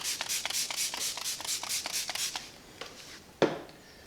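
Coating prep being worked by hand into a polished chrome clad wheel on a Ram truck, a steady series of about nine rhythmic rubbing strokes followed by a couple of softer wipes and a sharper knock near the end, close and alone.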